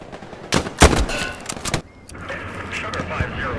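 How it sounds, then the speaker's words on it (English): Gunfire in the online shooter Hell Let Loose: several loud, sharp bursts crack close by in the first two seconds, followed by a quieter, rumbling battlefield background. "who's shooting me?"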